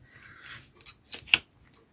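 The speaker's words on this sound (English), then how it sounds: "So these are non-stick scissors." Non-stick scissors cutting card from recycled Christmas cards: a few quick, crisp snips close up, the last one the sharpest, in a quiet room.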